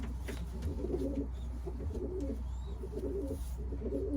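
Pigeons cooing at a loft in a Filipino camp, soft repeated low coos blending into a steady murmur of nearby birds, fairly quiet and with no talk.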